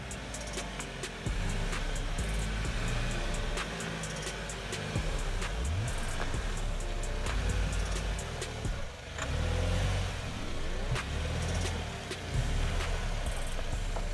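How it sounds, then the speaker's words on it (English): A Haval SUV grinds slowly over off-road obstacles on a diagonal course, its engine droning low and steady with occasional revs, small knocks and a brief dip partway through; moderately distant and without speech. "Haval is driving along the first diagonal"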